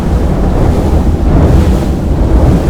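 A Valhalla 41 powerboat runs at over 50 knots, a loud continuous roar of wind buffeting and rushing water with heavy low rumble, steady throughout with no talking.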